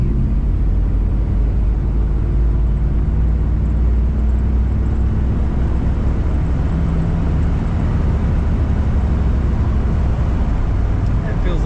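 A 1960 Chrysler New Yorker accelerates on the road, heard from inside the cabin. Its engine and road rumble rise loud and steady, and a voice speaks faintly under the noise.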